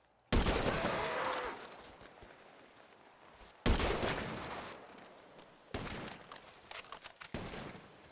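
Three loud gunshot bursts in a roleplay video game, each a sharp blast trailing into a rumbling echo, spaced a few seconds apart, with no talk over them.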